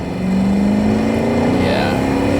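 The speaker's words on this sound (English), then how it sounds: "I guess we can floor it here." Mercedes-Benz R129 SL60 AMG accelerating at full throttle, a loud rising engine roar from inside the cabin that climbs steadily in pitch, with a voice briefly heard over it.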